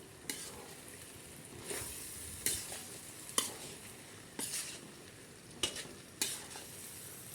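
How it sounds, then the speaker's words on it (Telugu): A spicy fry with chili powder and garam masala sizzles in a pan, a steady frying hiss broken by repeated scraping stirs at a regular pace, close and fairly quiet, with no talking. "కారం వేసేస్తున్నాను. ఇక ఫ్రై దగ్గర పడిపోయింది, చక్కగా అయిపోయిందండి ఫ్రై చేయటం."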